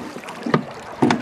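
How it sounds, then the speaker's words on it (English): Oars dip and pull through the water as a small boat is rowed, giving two distinct splashing strokes over a faint steady background of water and wind. "It took me a while to get used to the oars and paddle a straight line."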